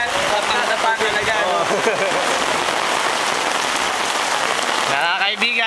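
Heavy monsoon rain pours steadily and loudly, a dense constant hiss of drops pounding the surface throughout.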